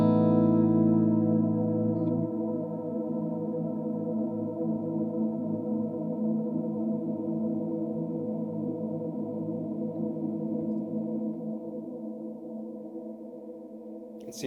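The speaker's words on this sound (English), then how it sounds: "you play a chord and it will just hold it indefinitely pretty much" A held guitar chord sustained by a Strymon BigSky MX reverb pedal on its large Saturn preset, a dense steady wash that rings on evenly and slowly thins, alone without talk.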